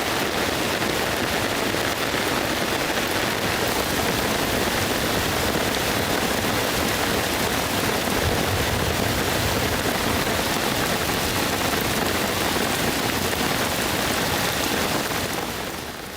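Heavy, steady rain falls without a break, forming a dense, even hiss that stays loud and constant throughout, with no voices.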